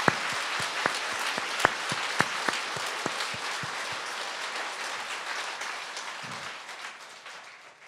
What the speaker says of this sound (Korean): the big applause to Jesus Christ.